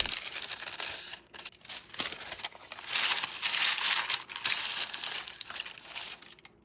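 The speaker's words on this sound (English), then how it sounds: "I'm lining my loaf pan with parchment paper for easy removal" Parchment paper crinkles and rustles continuously up close as it lines a loaf pan, with crisp crackling bursts that rise and fall for several seconds. No one speaks.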